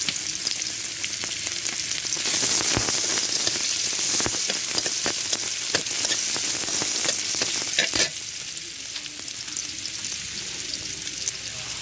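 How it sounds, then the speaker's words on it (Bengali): Onions with nigella seeds fry in hot oil in a home kitchen, giving a loud, steady crackling sizzle with scattered pops and stirring clicks throughout. "দেখুন পেঁয়াজগুলো ভাজা হয়ে গেছে।"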